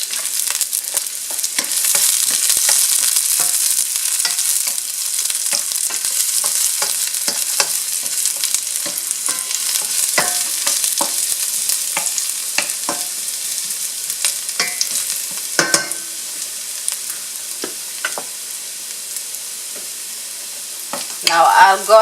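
Garlic sizzles in about a tablespoon of oil as the base for shrimp and pork rice noodles. Steady close frying hiss runs throughout, with frequent light scrapes and clicks of stirring in the pan.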